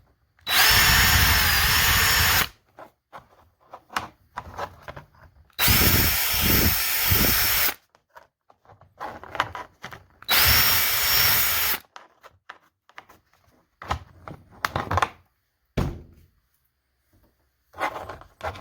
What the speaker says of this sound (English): Drill out the mounting holes.